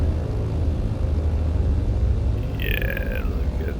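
A Britten-Norman Islander twin-engine aircraft taxis in Microsoft Flight Simulator 2020, giving a steady low engine drone and rumble throughout, with a brief high whine or squeal near the end.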